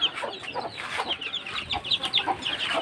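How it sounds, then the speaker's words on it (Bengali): An angry hen clucks steadily beside her newly hatched, incubator-raised chicks, giving a dense run of close, harsh clucks and agitated chatter without pause. "মুরগি এক রাগান্বিত হয়ে আছে"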